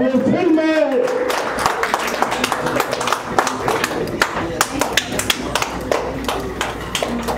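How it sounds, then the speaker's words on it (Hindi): Steady clapping from a crowd at a film launch ceremony, a continuous patter of applause that holds for several seconds, with voices carrying underneath. "एक जोरदार ताली।"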